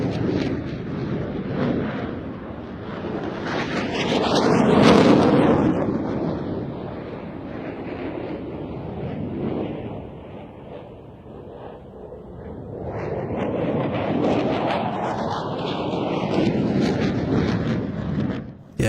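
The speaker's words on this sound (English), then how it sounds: "The F-16 completing that Cuban 8, and both aircraft heading out to the left-hand side for the next manoeuvre." A JF-17 and an F-16 fighter jet fly airshow manoeuvres under blue skies. Two loud, roaring passes swell in and fade with sweeping pitch, mixed with gusty wind noise on the microphone.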